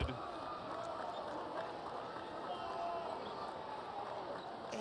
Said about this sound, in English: They are making a lot of noise.